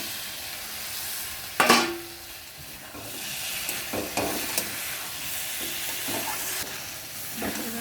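An egg goes into a pan of spiced masala and cooks in a steady, close sizzle, with one sharp clatter early on and intermittent scraping stirs after it.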